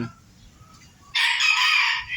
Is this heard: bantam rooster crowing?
yes